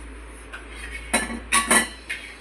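Metal lid set onto a cooking pot of vegetable biryani, a few sharp clinks and clanks of metal on metal in quick succession, close and fairly loud against a quiet kitchen.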